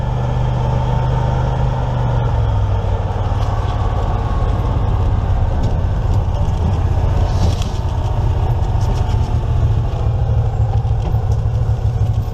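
An EZ-GO ST 4x4 golf cart runs its engine at a steady low hum and rumble that stays loud and close throughout, with no speech.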